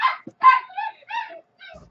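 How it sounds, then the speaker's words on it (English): A dog barks and yips several times in quick, uneven bursts, close and fairly loud with brief silences between. "You hear my dogs? They're barking."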